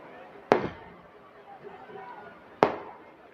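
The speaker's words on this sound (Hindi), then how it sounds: "जो लोग पटाखा फोड़ रहे हैं वो रुक जाएं।" Two firecrackers burst at an outdoor political gathering in Malegaon, sharp loud single bangs about two seconds apart against a low murmur of crowd noise.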